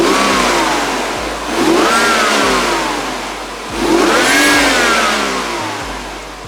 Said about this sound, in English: we're going to have Blaise jump in and rev the car so you can hear what it sounds like stock.